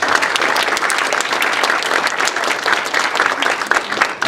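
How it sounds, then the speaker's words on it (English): A crowd at the Morris County Distinguished Military Service Medal Ceremony gives a full, loud round of applause, steady dense clapping from many hands throughout. "So let's give them a round of applause."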